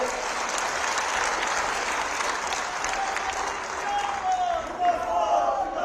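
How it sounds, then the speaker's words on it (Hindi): A crowd at an outdoor public ceremony applauds together, a dense, sustained wash of clapping that keeps going, with a few louder bursts toward the end. "जिसने मोदी जी के राज में जयराम जी के नेतृत्व में हम मुफ्त में वैक्सीन लगाई जरा जोरदार तालियां सबके लिए बजा दें"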